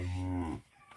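A single loud, close moo from one of two black-muzzled breeding cows on a cattle farm. The call lasts about half a second, then fades into quiet background.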